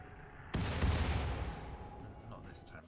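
A single heavy gunshot in the game Rimworld, a sudden loud blast followed by a long fading rumble, heard on its own over a low background.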